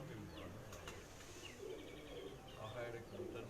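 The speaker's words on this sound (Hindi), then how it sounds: "ਇਹ ਜਿਹੜੇ कबूतर ने उड़ के आए ने जी, इन्हां नूं खुराक दी जा रही है जी" Pigeons that have flown in coo softly while being fed on a rooftop in Sheikhupura, faint and close, with a few chirps and rustles under a low background murmur.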